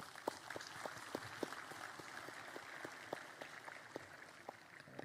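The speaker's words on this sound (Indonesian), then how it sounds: "Tepuk tangan." Faint applause from a distant crowd at a National Education Day ceremony, with claps landing in a loose, fairly steady rhythm.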